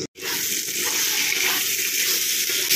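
Water pours steadily into a pan of spiced potatoes being cooked, a continuous gushing splash with a slight sizzle underneath, close and fairly loud for nearly three seconds after a brief silent gap.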